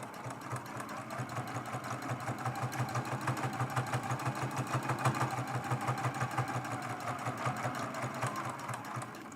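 A domestic sewing machine runs at a steady quick pulse while quilting in the ditch of a small fabric mug rug, an even rhythmic needle chatter heard close and alone.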